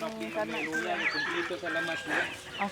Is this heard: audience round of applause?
no